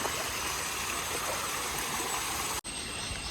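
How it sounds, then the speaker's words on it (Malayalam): A small waterfall and stream on a river crossing in Kerala rush with a steady, loud hiss of flowing water, broken briefly by a sharp handling bump near the end. "ചെറിയൊരു വെള്ളച്ചാട്ടം."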